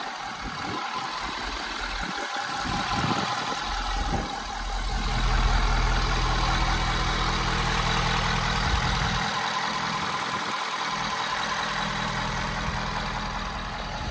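A 6.7 liter Powerstroke turbo diesel engine in a stock 2017 Ford F-250 XLT 4x4 idles steadily at close range, a low chugging rumble that swells slightly midway and runs without interruption.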